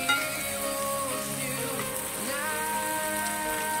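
Shrimp hitting a hot pan for garlic shrimp, a steady broadband sizzle that runs evenly throughout, with faint background tones underneath and no talking.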